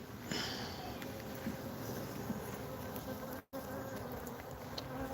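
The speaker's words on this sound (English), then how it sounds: "bunch of bees over here" Honey bees buzzing steadily around a hive being opened to make a split, a dense continuous hum close by with no talking and a brief dropout partway through.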